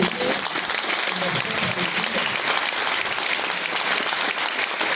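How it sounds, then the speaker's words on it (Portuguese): Church congregation applauding during a service, dense loud clapping from a full crowd that continues evenly throughout without pause. "Vamos aplaudir a Jesus."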